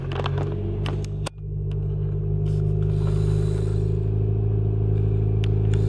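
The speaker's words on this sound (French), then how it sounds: "Je vais partir ma voiture la première fois en 2 jours." A car engine rumbles steadily after a sharp click near the start, a car being driven for the first time in two days; the low idle holds close and continuous with faint clatter on top, no voices.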